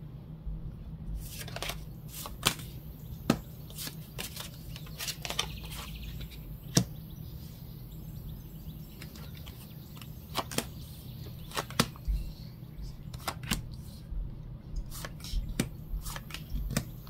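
Tarot cards are handled and flipped over during a reading, giving scattered sharp snaps and soft slides spread irregularly over a quiet room background, with no talking.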